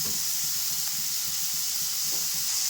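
Curry leaves sizzling in hot oil with onions in a pan, a steady bright crackling hiss with faint stirring clinks, close and continuous with no talking.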